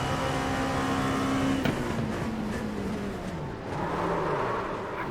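An LMP2 race car engine in a racing video game drones steadily at high revs, its pitch sliding down and back up as the car shifts and slows, heard alone without talk.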